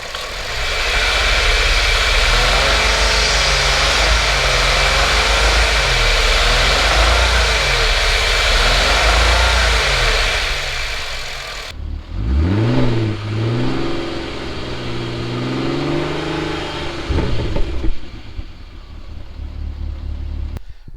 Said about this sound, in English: once it warms up, you'll start to hear this misfire